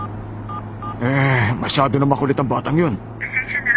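Telephone keypad dialing tones in the anime Hunter x Hunter: a few short electronic beeps at the start and end, with a voice talking over the middle.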